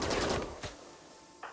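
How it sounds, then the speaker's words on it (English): A quick burst of rapid gunfire in the video game RimWorld rattles out, then a single sharper shot follows after a short quiet gap, with no talking. "once the enraged zombies hear gunfire"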